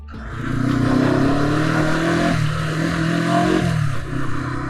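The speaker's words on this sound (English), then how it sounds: "Clutch in, ignition on, and press the start button. Starts up very nicely." A 1984 Honda CB 125T motorcycle engine fires up and settles into a close, steady idle, with a brief dip and small revs in the running note.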